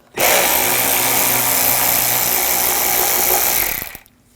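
A power tool with a T20 socket drives out two screws on a 2007-2013 BMW 328i 3.0L inline-six during crankshaft position sensor work: one steady, loud, close whir lasting about four seconds before stopping abruptly.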